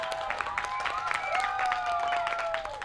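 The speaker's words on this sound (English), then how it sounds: "How about a round of applause as we get everybody pumped up?" Audience applause at an Erie County Fair Board versus Fair Friends game-show taping, steady clapping mixed with whistles and rising tones from music or cheering, fairly loud and continuous throughout.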